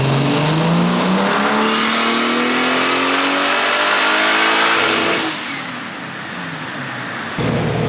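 A built, turbocharged BMW E36 engine on a dyno pull screams loud and steady as it climbs in pitch for about five seconds, then drops off to a lower idle-like rumble.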